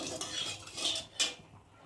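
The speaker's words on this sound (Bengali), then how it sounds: "তেলটা ভালো করে একটু নেড়ে নেব" A utensil scrapes and clinks against a wok while oil and salt are stirred, giving a few quick close metallic scrapes and taps over a faint hiss, with no talking.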